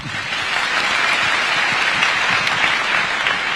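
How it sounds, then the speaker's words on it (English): Loud, dense applause from an audience after a political speech, sustained and even across the whole stretch with no talk over it. "Another round of applause for His Excellency."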